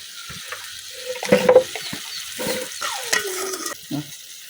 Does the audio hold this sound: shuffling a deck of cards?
no